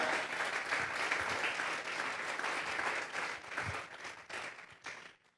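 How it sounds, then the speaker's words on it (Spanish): Sustained applause from a church congregation, dense and even, gradually thinning and fading out toward the end. "Vamos a regalarle ofrenda de palmas al Dios de la gloria"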